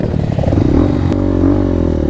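A motorcycle engine revs loudly and close by on a mountain trail, its rough mid-range roar swelling and holding steady for about two seconds, with clattering mechanical noise throughout.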